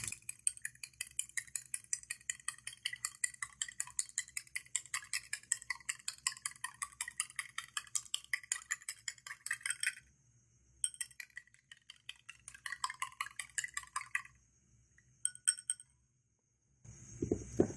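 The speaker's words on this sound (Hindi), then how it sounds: "1 स्पून सूजी, 1 स्पून भर के ऑयल, 1 अंडे को हम अच्छे तरीके से फेंट लेंगे।" An egg beaten with semolina and oil, a utensil clinking rapidly and steadily against a bowl for about ten seconds, then a few scattered taps before a short pause.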